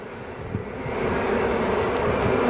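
A steady, dense buzzing of many bees that swells slightly louder over a couple of seconds, close by, with no voices.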